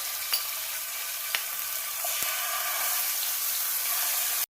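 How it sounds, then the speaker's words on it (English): Ginger and garlic paste frying in oil in a pan for a mini pizza, a steady close sizzle with a few faint scraping stir clicks, no talking. "Now we're going to mix the ginger and garlic paste into with the oil for it to cook."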